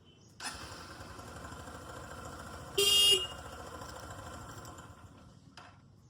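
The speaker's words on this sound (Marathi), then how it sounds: "तर हॉर्न वाजून बघतो" A single car horn honk, about half a second long, sounds over the steady low rumble of an idling engine during heavy rain in Kolhapur.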